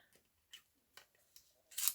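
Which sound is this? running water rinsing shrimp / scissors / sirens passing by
scissors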